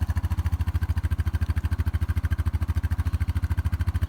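A 2018 Honda Foreman ATV engine idles after a cold start, a steady rapid thumping putter with a fast even beat, close and fairly loud.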